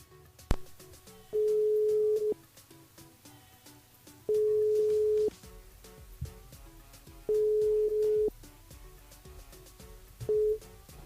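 A phone line ringing out during a live radio call-in, four evenly spaced steady tones about a second long each, with faint background noise in between.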